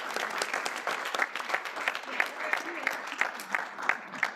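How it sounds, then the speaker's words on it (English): Audience applause at a school board meeting after a motion passes, individual claps clearly audible in an uneven, moderately dense patter with some voices mixed in. "Let's have a round of applause while we gather to take a picture"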